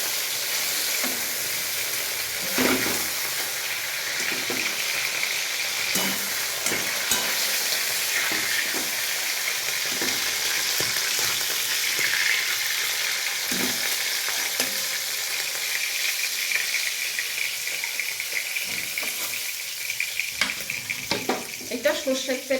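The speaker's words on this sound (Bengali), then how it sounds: "মাছগুলোকে এরকম হালকা ভেজে দিতে হবে, বেশি কড়া করে ভাজলে হবে না" Pomfret fish frying lightly in mustard oil, a steady broadband sizzle throughout with scattered soft clicks and taps from handling in the pan, close and fairly loud, no talking.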